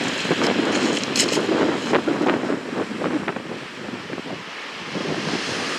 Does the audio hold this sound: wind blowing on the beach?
yes